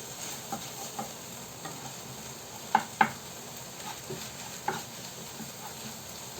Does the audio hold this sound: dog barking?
no